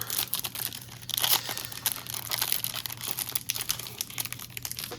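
Foil wrapper of a Panini football trading card pack being cut open, with steady crinkling and crackling plastic handled up close throughout, no voices.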